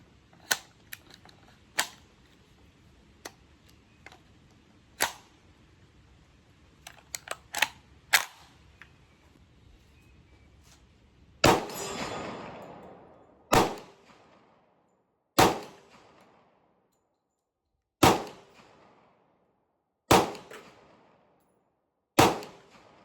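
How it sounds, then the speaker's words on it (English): A Kriss Vector 10mm carbine loaded with regular Glock magazines fires a series of sharp single shots at uneven intervals. The reports are spread over the clip with faint clicks and handling noises between them, and no one speaks. "second shot with the Kriss Vector 10 millimeter regular Glock mags"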